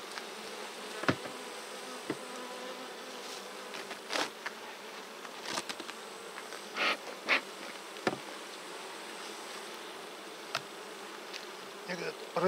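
Honey bees buzzing around a hive entrance during honey harvest, a constant low drone with individual bees passing close by in louder brief swells, no talking.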